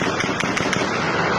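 Rapid bursts of gunfire crackle through a street protest in Rasht, northern Iran, sharp reports repeating amid a dense, continuous roar of crowd noise.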